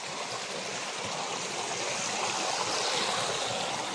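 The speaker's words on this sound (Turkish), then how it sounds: "güldür güldür akan bir deresi mevcut." A stream flows beside a farm field, a steady, fairly faint rushing and trickling of water with no voices, continuous throughout.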